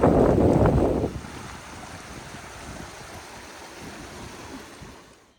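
Breeze rushing past on a shady stretch of the John Muir Trail between Muir Pass and Mather Pass in the Sierra, louder gusts in the first second then a steady soft wind wash fading out.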